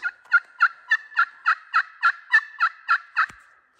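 Wild turkey in the woods at a truck-camping hunt site, answering a call. It gives a loud, close series of about eleven evenly spaced, rhythmic calls with no talking, then falls silent.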